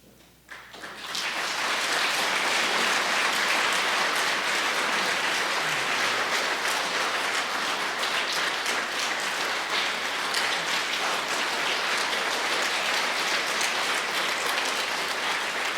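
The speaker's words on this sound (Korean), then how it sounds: "뜨거운 박수로 우리 윤재웅 집사님 감사하고 또 축복하고 격려해 주시기를 바랍니다" A Sunday church congregation gives warm applause to honour a deacon. After a quiet moment, a thick, even roar of clapping rises and holds steady for around fifteen seconds, with no one speaking over it.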